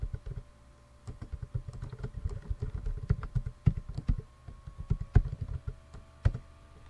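Rapid clatter of typing on a computer keyboard during a live programming session, irregular bursts of close, crisp key clicks with short pauses, no talking.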